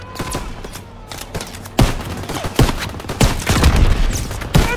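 Machine gun fire during the D-Day battle in the video game Call of Duty WWII, dense rapid bursts and sharp shots with heavy booms, loud and chaotic throughout.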